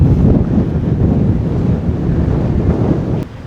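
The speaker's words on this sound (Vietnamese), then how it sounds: "Ở đây thì trên cao gió quá trời là gió luôn." Strong wind buffets the microphone at a high spot beside a sluice gate, a loud continuous roar that drops off sharply near the end.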